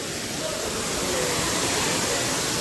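A waterfall near the Murga Mahadev temple in Keonjhar gives a constant broadband roar of rushing water that stays even and fills the whole clip.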